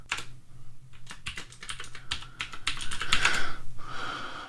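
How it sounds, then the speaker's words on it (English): Rapid clicking keystrokes on a computer keyboard as commands are typed in a Linux terminal, a close, steady patter of uneven taps with brief pauses and no talking. "So let's type in the first command."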